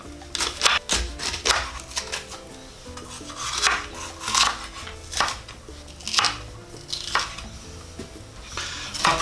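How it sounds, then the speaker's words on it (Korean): A knife chops bell pepper on a cutting board for a paella, a series of crisp, close knocks in an uneven rhythm with short pauses between bursts, and no talking. "이제 파프리카 썰겠습니다."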